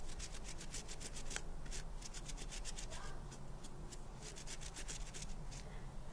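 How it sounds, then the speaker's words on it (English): A cloth wipes over rice paper decoupage, giving soft, rhythmic rubbing strokes that repeat steadily and close by, fairly quiet. "then I'm going to give it a jolly good wipe"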